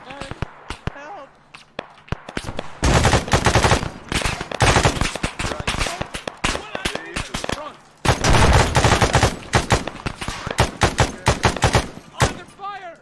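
Machine gun fire in the video game Arma 3, dense rapid bursts of loud automatic shots in long volleys with brief gaps, mixed with voices shouting over the gunfire.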